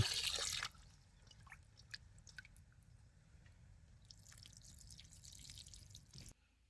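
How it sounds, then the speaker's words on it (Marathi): Goat head meat from the butcher is rinsed with water for a rustic rassa, a burst of running water at the start and then soft drips, squelches and handling noises close by, quiet and with no talking. "असं चांगलं एक दोन वेळा धुवून द्यायचं बघा"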